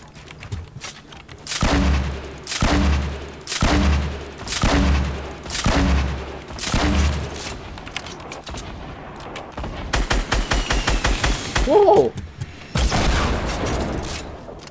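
Rapid bursts of gunfire in the Fortnite video game, loud and close, coming in repeated rhythmic volleys with short pauses, followed by a faster stretch of shots, no talking.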